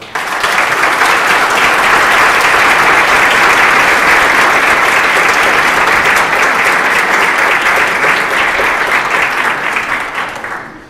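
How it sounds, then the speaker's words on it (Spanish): Audience applause at a church lecture evening, steady dense clapping sustained for about ten seconds before tapering off at the end. "Un aplauso, por favor."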